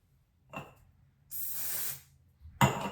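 A makeup setting spray bottle mists in a short soft hiss, preceded by a faint click and followed by a brief sharper spritz.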